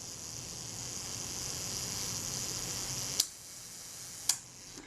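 Self-timer on a Contaflex II camera running down, a close, steady mechanical buzzing whirr for about three seconds, then two sharp clicks as the shutter trips.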